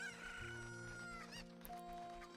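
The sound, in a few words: cucco chickens clucking in Zelda Ocarina of Time 3D video game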